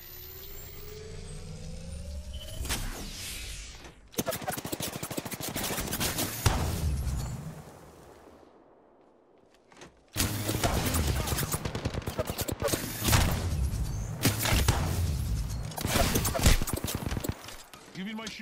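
Video game gunfire comes in long, loud bursts of rapid shots, broken by a quieter pause, then a dense, sustained volley. A voice talks over parts of it.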